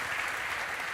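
Congregation applauding a pastor during a church service, a steady dense wash of clapping throughout, loud and continuous with no pauses.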